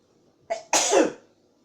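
A single sharp sneeze bursts out close by in a quiet kitchen, with a short intake just before the main explosive blast. No talking.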